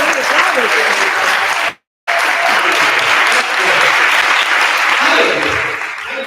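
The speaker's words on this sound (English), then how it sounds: "Yeah, big round of applause." Loud, dense audience applause at a school board candidate forum, sustained clapping that cuts out briefly near the start before resuming with faint voices mixed into the crowd.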